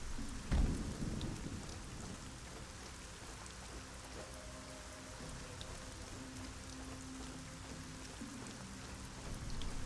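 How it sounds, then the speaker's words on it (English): Steady rain and rolling thunder in the fantasy video game Arcania Gothic 4, a continuous hiss of rainfall with a deep rumble early on, with no talking. "we'll just make our way in through the rain"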